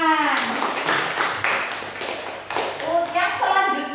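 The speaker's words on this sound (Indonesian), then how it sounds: "Untuk kelompok 1 kita beri tepuk tangan" A school class claps for a student group, irregular hand claps mixed with children's voices and chatter, close and fairly loud, with light thumps and shuffling.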